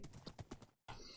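Horse hooves clip-clop in a quick, even rhythm in Minecraft, a run of close, quiet hoofbeats that cuts off briefly and resumes.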